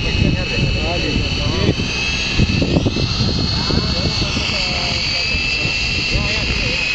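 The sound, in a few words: electric RC helicopter MX9 rotor spinning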